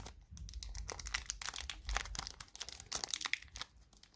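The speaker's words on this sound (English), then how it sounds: "now it's just annoying to get all the tape off" Tape being peeled off Magic: The Gathering cards sent in a bubble mailer, heard close up as continuous crinkling, ripping and crackling of plastic and tape in quick irregular bursts, with no talking.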